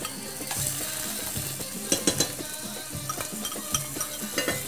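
Onions hit a hot pan and are stirred, producing a continuous sizzle under repeated scraping and knocking of a utensil against the pan, close and moderately loud, with no speech.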